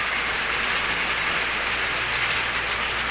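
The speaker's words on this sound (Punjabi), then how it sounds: "ਮੀਂਹ ਬਹੁਤ ਹੀ ਜ਼ਿਆਦਾ ਪੈਂਦਾ ਪਿਆ ਜੀ" Heavy rain pours steadily, a dense, loud hiss of drops drumming on surfaces without any break.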